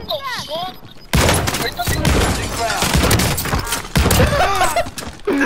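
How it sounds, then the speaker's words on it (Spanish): Combat shotgun fired in a shooter video game, with a rapid burst of loud, dense blasts and thuds that continues almost without a break, while voices talk over the gunfire. "está buena la escopeta esta, güey"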